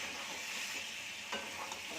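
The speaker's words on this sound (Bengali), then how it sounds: "চিকেনটা হচ্ছে কষানো" Chicken stirred and sautéed in a hot pan for biryani, giving a steady close sizzle with soft scraping stirs and a brief louder scrape partway through.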